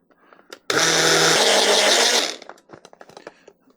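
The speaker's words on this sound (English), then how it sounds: "this little generic bullet blender I have here, I think I might have purchased it at the dollar store" A cheap generic dollar-store bullet blender whirs loudly in one burst of about a second and a half, starting abruptly and winding down, with scattered small clicks and handling noises before and after.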